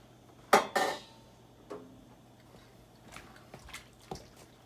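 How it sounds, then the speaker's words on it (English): A spoon knocks against a pot while ingredients are stirred into Polish mushroom soup, giving two sharp clanks up close followed by a few softer scrapes and taps. No one speaks. "I'm going to start stirring it in."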